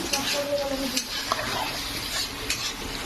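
Potatoes frying in a pan beside a pot of khichuri, giving a continuous moderate sizzle with a few light utensil clinks and scrapes, and faint talking in the background.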